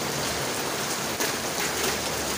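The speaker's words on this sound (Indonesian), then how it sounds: "ini daerah Kediri, tepatnya di dekat McD, dalam keadaan hujan" Steady rain falling in Kediri, a continuous broadband hiss of drops close by with no pauses or voices throughout.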